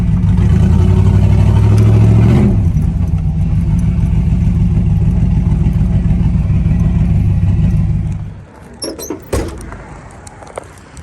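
A loud 1988 Monte Carlo SS engine idles and rumbles up close, dropping lower as the car pulls into an exhaust shop, then cuts off, followed by a few clunks and a door.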